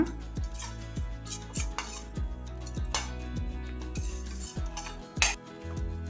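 A spoon stirs masala buttermilk mixed with ground spice paste in a metal vessel, giving a steady rhythm of repeated scraping swirls and light metallic clinks, close and clear.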